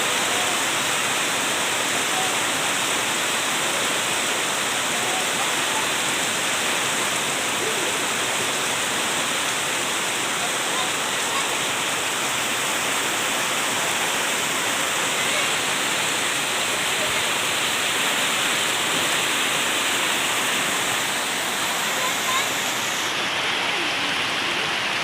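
Heavy rain pours steadily onto a home with a water drainage area, a loud, dense, continuous hiss with no talking throughout.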